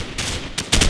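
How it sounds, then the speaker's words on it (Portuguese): Bursts of rapid video game gunfire in Call of Duty 4: Modern Warfare crackle in quick succession, loud and close, with short gaps between volleys and no talking. "Tô tomando tiro aqui"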